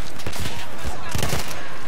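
Battlefield 1 multiplayer gunfire, loud rapid bursts of shots crowding together over a busy battlefield din, with no clear speech.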